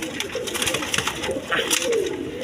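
Nearby Mosoldom pigeons, kept as a pair, give repeated low guttural coos that rise and fall, with some soft rustling between calls.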